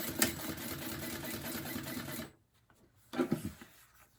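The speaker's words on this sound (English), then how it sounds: "And then top stitch the other short edge." Sewing machine running a top stitch along the short edge of a fabric purse, a close rapid whirring stitch for about two seconds, a brief pause, then a short second burst.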